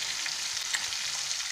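Winter vegetables with fenugreek leaves frying in a pan give a soft, continuous hiss of sizzling oil with faint crackles, fairly quiet and close, with no voices.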